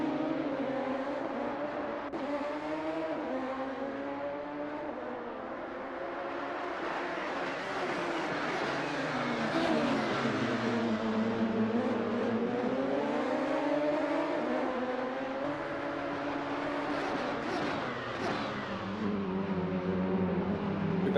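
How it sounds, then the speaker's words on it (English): Radical SR3 race cars lapping the Magione circuit, engines whining and surging through gear changes as they accelerate and brake, a steady loud roar with rising and falling pitch over about twenty seconds, no voices. "rew Berrien doing everything he needs to do, making that Radical as wide as possible"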